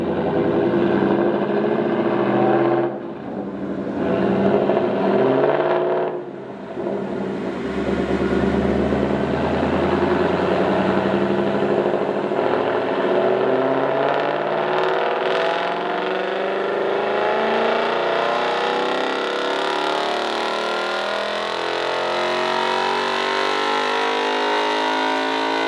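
A 2021 Ford Mustang GT engine roars on a dyno in drag mode, pausing twice early as gears shift, then climbing in one long sustained pull to high revs, loud and close.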